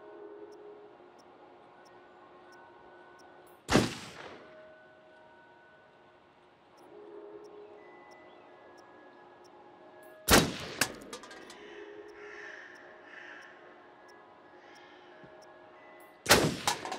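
Three loud gunshots at a shooting range in Until Dawn, spaced several seconds apart with sharp echoing tails over a quiet ambient hum, the last near the end.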